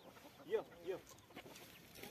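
Madras-lineage fighting chickens cluck softly in a couple of short calls, fairly faint, with quiet background noise around them.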